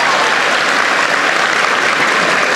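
A large commencement crowd applauds the governor of Tennessee, Bill Haslam, a loud, continuous wash of clapping that holds steady without any voices.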